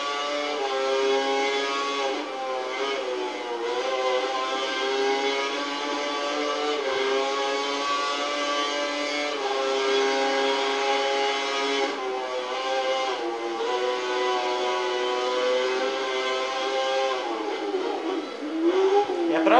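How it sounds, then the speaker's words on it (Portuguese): Race cars roaring past in the F1 2013 racing game at the Brands Hatch circuit, a steady loud engine drone with rising and falling pitch as cars sweep by, continuous throughout with no voices. "Olha os outros carros passando."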